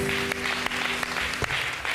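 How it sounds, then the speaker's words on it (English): A church congregation claps through a Sunday service, a dense steady round of applause filling the room for a couple of seconds. "So give yourself a round of applause."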